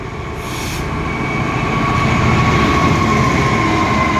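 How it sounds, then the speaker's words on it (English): A DB Schenker Class 66 locomotive hauls a goods freight train from Immingham biomass to Drax Power Station through Scunthorpe Station, a loud steady diesel rumble with wheel noise building and sustained as it passes close by. "Here comes a goods freight train going through Scunthorpe Station."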